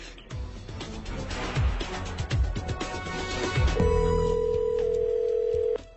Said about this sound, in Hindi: फोन बज रहा है मैन